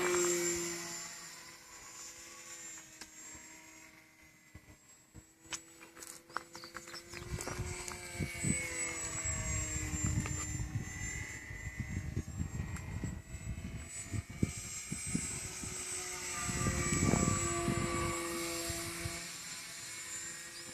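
A tiny radio-controlled propeller plane whines and buzzes overhead, its pitch rising and falling as it passes near and away, with a steady background tone.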